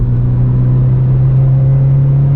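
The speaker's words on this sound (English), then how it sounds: "VTEC is engaged." A tuned Honda VTEC engine, rev limiter raised and cam angles adjusted, hums loudly and steadily inside the car as it pulls, its pitch creeping slightly upward with no talk over it.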